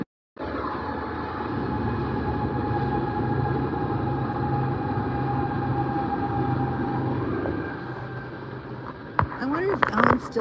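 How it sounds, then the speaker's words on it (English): A train rumbles past at a steady roar for several seconds, fading toward the end as some clanks and a squeal come through. "There's another train."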